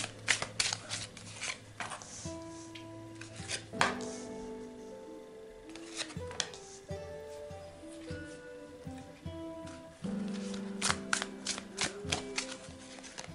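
Tarot cards being shuffled and laid out for a reading, making a run of crisp riffles, taps and slaps close by, with short bursts and pauses and no voice.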